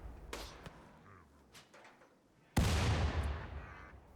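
Gunfire in the video game Rimworld during a fight with animals: a few faint scattered shots and snaps, then one loud sharp blast that decays over about a second, heard close with no talking.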